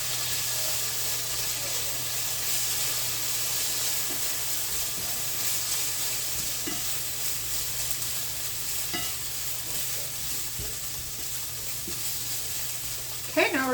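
Food sizzles steadily in a little oil in a pan, a constant crackling hiss with occasional soft pops and stirring.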